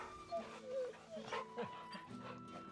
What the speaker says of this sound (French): Pat le chien.